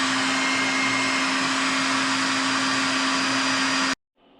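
A heat gun blows steadily while heat-setting paint on a handmade smallmouth glide fishing bait, a loud constant whooshing roar with a fixed hum, running alone for about four seconds before cutting off abruptly.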